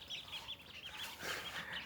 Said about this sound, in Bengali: হাঁসের বাচ্চা।